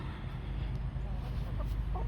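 Hens near a backyard chicken coop give soft, scattered clucks at a low level beneath a steady background hum.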